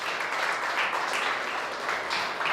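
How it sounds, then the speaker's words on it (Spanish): Church congregation applauding after a sermon line, a steady wash of many hands clapping at even loudness throughout, with no talk over it. "Denle un aplauso a Dios por eso."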